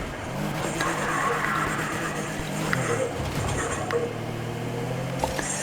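Fast car in Need for Speed Heat, a steady high-revving engine drone with tire squeals and skidding throughout, loud and continuous.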